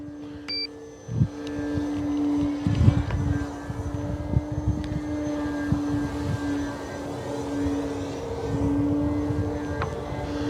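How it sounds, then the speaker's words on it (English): An Arrows Bigfoot 1.3 m RC model airplane at full throttle, its steady electric motor whine droning on one held pitch throughout, with wind buffeting and handling bumps close to the microphone. "Okay, full throttle coming up right here."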